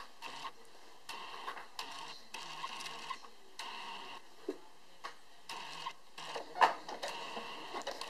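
A sewing machine stitches along the edge of a piece of fabric in short bursts of rapid mechanical whirring. The bursts stop and start again with brief pauses between them, close and moderately quiet.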